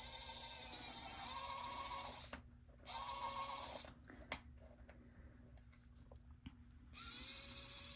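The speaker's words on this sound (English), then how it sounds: "let me drill the hole, and then I'll show you exactly where I'm drilling." A small power drill bores a hole in a polymer clay piece for a wall-hanging sun catcher, whining in steady high-pitched bursts of a second or two with short pauses and a final longer run.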